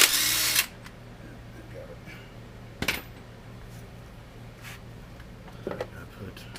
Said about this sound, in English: I don't know if this little impact will do it.